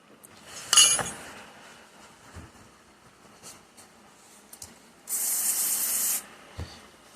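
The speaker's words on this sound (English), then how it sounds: "I use some carb clean each surface." Carb cleaner sprayed onto the bearing retainer surfaces of a Tremec TKX transmission in one loud, close hiss lasting about a second, following a sharp metallic clink and a few quiet handling taps.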